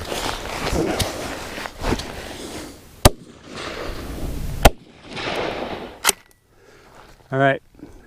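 Rifle shots from a CZ 527 carbine firing 122 grain loads on a shooting range, several loud sharp cracks spaced a second or more apart, with rustling and handling noise between them and a brief voice near the end.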